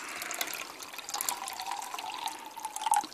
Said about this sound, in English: Let me just pour a bit of water in here, and you can hear that fizzling already